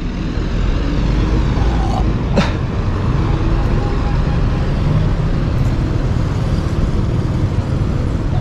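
Traffic on MacArthur Highway, a dense, continuous roar of cars, buses and trucks with broadband road noise and a brief sharp transient, heard from nearby beside the road.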